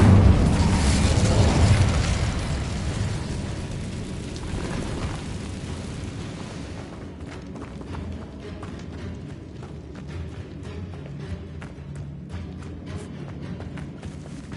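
Incendio fire spell cast in a video game: a loud whooshing burst and rumble at the start that fades over several seconds into softer crackling and scattered ticks.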